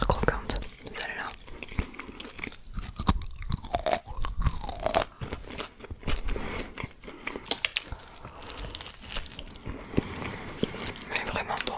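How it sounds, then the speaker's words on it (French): Very crunchy McDonald's fries crunched close to the mic in quick irregular bites and chewing, mixed with soft talking throughout. "Je sais qu'il y a des frites qui sont hyper croquantes."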